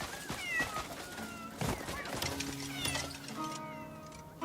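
Cats meowing in a peaceful little town in Crimson Desert, a series of short and drawn-out mews overlapping one another against a low steady background.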